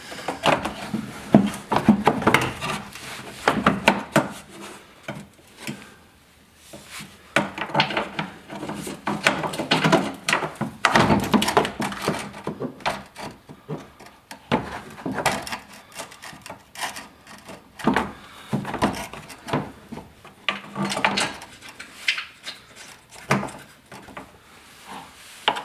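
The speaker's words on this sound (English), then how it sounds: "Now we can put the guard back on" Plastic and metal underbody guard refitted beneath a vehicle after an oil change: a steady run of close knocks, scrapes, rubs and clatters of panel and bolts being handled and positioned, irregular and fairly loud throughout with no talk.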